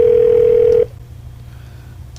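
A steady telephone dial tone on a radio show hums loudly for almost a second, then cuts off into near silence broken by faint dialing beeps, with no talking.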